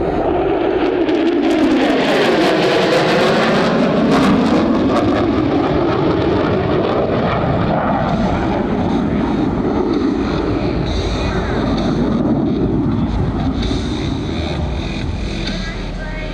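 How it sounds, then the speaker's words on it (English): An F-35B Lightning II fighter jet roars past in a high-speed pass at an airshow, a loud swelling rush with a falling, Doppler-shifted tone, then a long rumbling fade into the distance. "get your cameras ready for the F-35 high-speed pass"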